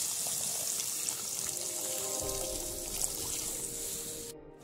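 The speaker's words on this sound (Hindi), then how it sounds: "तो अभी पानी डालेंगे इसमें।" Water is poured into curry gravy in a pan for a village-style Bengali magur fish dish. A steady trickling pour runs for about four seconds and then stops abruptly.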